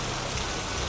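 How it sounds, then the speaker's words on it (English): Steady, relentless rain pours down at night in a dense, unbroken hiss of drops, close and even, with no voices. "The night I moved in, the rain was relentless."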